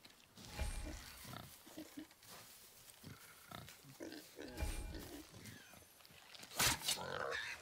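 A boar in the video game God of War grunts and snorts in irregular low bursts at moderate distance, mixed with rustling movement and a louder squeal near the end, amid quiet game ambience.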